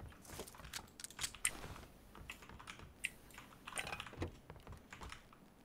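A Razer mechanical keyboard is typed on during a PUBG gaming session, giving close, quick clacking keystrokes in irregular bursts with no voices.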